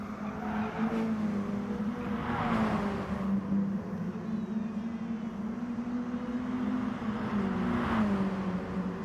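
Mini Cooper race cars lapping a circuit, a steady moderately distant engine drone with pitch that rises and falls as cars accelerate and pass, fairly faint and continuous throughout.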